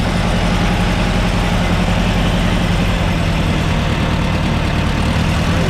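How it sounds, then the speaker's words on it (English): A 240 car engine idles roughly in cold weather, misfiring on one cylinder, with a steady loud, uneven low chugging pulse heard close up and without a break. "Number one cylinder is not firing."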